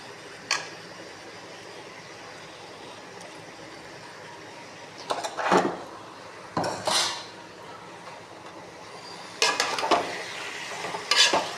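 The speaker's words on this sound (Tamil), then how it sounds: "நல்லா பரட்டி வதக்கிடலாம்." Chicken pieces stirred and sautéed in a pan for masala pepper gravy, with several distinct bursts of metal utensil scraping against the pan over a faint low sizzle and hum.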